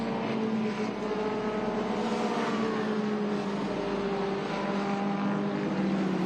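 A vintage race car at Portland International Raceway, running off at turn 7 into the runoff area: a steady, loud engine drone holds throughout with a slowly shifting pitch and no gaps.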